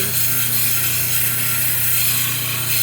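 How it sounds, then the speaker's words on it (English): A gnarly gray shell piece being ground down on a motorized grinder to shape a pendant, producing a steady, close humming whir with a gritty rubbing texture throughout. "Let's grind a little more."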